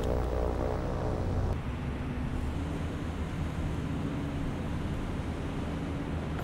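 Aircraft engine drone from a scout plane in the naval combat game War on the Sea, a steady, dense roar that stays loud and continuous throughout, with a slight shift in tone early on.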